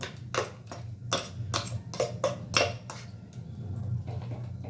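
A spoon scraping and clinking against a cooking pot as masala is mixed in, about nine sharp metallic strokes in an uneven rhythm over a low steady hum, close and moderately loud.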